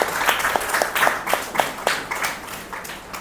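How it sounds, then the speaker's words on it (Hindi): Clapping from an audience at a civil defence mock drill session at an academy, a burst of many hands applauding together that stays steady for a few seconds, then tapers off slightly. "एक बार ज़ोरदार ताली बजा दीजिए।"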